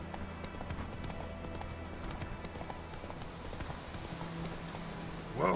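Horse hooves clip-clop at a steady walking pace in a video game, a faint, even patter of hoofbeats over a low background hum that rises slightly at the very end.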